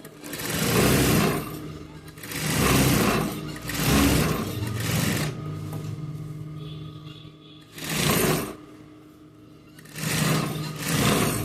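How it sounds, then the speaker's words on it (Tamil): Sewing machine stitching the lining of a blouse runs in repeated bursts of fast whirring, each lasting a second or two, with quieter pauses of low hum between them. "இப்போ இதில் ஒரு டிஸ்டன்ஸ் தையல் போட்டுக்கலாம்."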